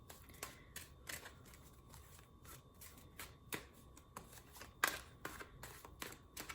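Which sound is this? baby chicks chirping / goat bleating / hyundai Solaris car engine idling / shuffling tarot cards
shuffling tarot cards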